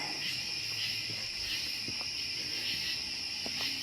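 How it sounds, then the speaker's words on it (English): Steady, dense cricket chirping fills the night air on an outdoor mound, a continuous high trill with a few faint clicks and rustles underneath; frogs are also out. "Hear a lot of the crickets and frogs out."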